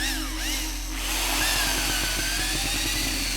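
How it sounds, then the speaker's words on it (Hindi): Power drill boring into a wall above a board during an installation, a harsh whining motor with gritty chattering bursts, close and fairly loud for a few seconds. "ऊपर ड्रिल करो।"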